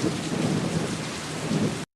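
Steady heavy rain pours down with a low rumble of thunder underneath, continuous and close, then cuts off abruptly.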